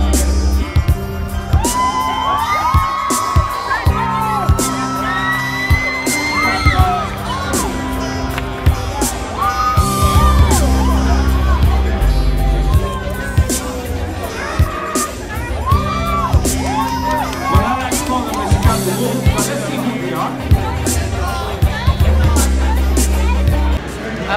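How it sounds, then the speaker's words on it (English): Young people at the Naiccon 2017 comic and cosplay convention cheer, whoop and yell for cosplayers, a busy, lively crowd din with bangs and shouts rising and falling over background music. "I've left the youth cheering for their favorite cosplayer"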